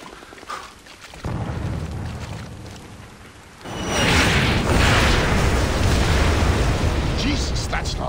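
Katyusha rockets strike in Splinter Cell Blacklist, a distant thud first and then a huge roaring blast that swells and rumbles for several seconds, with voices heard early on.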